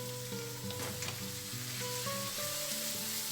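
Ground pork sizzles and renders its fat in a pan, producing a loud, continuous, close frying hiss with occasional stirring, while soft background music plays underneath.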